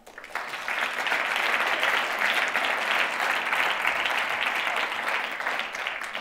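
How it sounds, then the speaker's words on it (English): Audience applause at the EPFL MT180 2017 final ceremony, a dense, steady wash of many hands clapping that swells quickly and holds at full strength for about six seconds. "So please, a round of applause."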